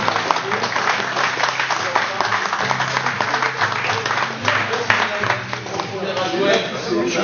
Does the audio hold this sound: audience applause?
yes